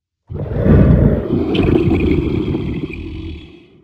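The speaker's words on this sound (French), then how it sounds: "On entendit soudain un hurlement bizarre, pourtant poussé par Sherkan." A tiger's howling roar used as an effect in a French Jungle Book audiobook, a loud, deep, rumbling cry that starts abruptly and trails off over a few seconds, with no voice over it.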